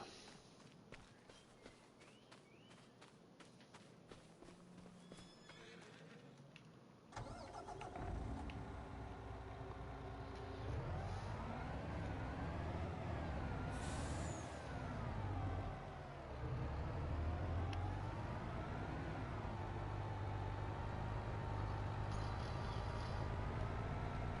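Truck in Farming Simulator 25 starting up after several quiet footsteps, its engine catching at once into a steady rumble that rises and falls as it drives off, loud and continuous to the end.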